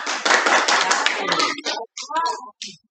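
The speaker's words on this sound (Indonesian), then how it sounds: "Sekali lagi tepuk tangan dulu untuk kelompok." Group of students applauding in a classroom, a dense burst of hand claps for about one and a half seconds, then thinning out to a few scattered claps before stopping.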